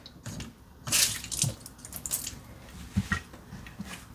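Water splashes and trickles onto an AeroPress XL filter and basket, in uneven bursts with light plastic knocks and clinks of handling, close and fairly loud.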